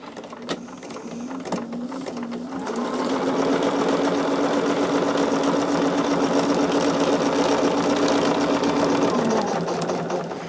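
A sewing machine stitches fabric with a steady mechanical whir that starts with a few short bursts, then runs continuously at close range and slows near the end.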